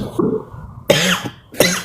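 A person coughs twice in sharp, close bursts, preceded by a low throaty murmur.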